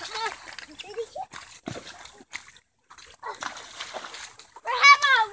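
Water splashing in short bursts during a backyard water fight, mixed with children's excited voices and squeals talking over the sloshing throughout.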